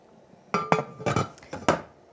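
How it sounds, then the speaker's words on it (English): A rolled, wet fomentation pad is set into a metal steaming canner, producing several sharp metallic clinks and clanks close by in quick succession. "And then place it inside of your steaming canner."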